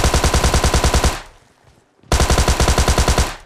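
Rapid full-auto M4 rifle fire from PUBG Lite, loud and close, in two sustained bursts of evenly spaced shots separated by a short pause.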